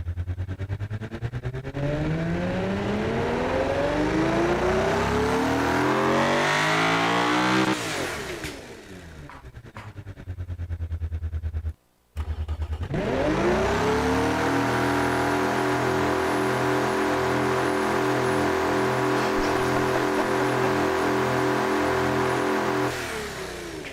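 A high-powered pickup truck engine, built to rev to 7,000 RPM or more and make over 1,100 kilowatts, climbs loudly through the revs, drops off briefly, then roars back up and holds a sustained high-rev scream, close and alone.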